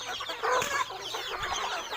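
Domestic backyard chickens of native Thai breeds cluck and murmur in a dense flock, a steady overlapping chatter close by with a few louder calls standing out.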